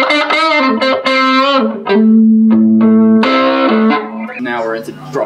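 An electric guitar through a Joyo overdrive pedal, played in middle pickup positions, plays bluesy overdriven notes and held chords, thick and gritty with sustained harmonics, loud and close with no talking.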